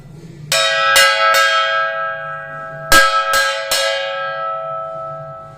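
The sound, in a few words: hand bell ringing, school bell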